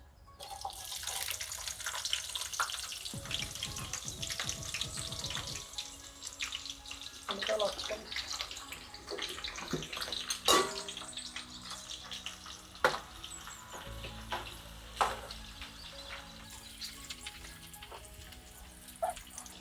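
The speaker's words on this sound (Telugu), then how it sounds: "ఆయిల్ వేడెక్కిందండి ఆనియన్స్ వేసుకుందాము ముందుగా ఆనియన్స్ వేసుకుందాము" Onions dropped into hot oil for chicken curry, giving a steady, close sizzle and crackle that runs through the whole stretch, with occasional clinks and knocks from the pan. No one speaks.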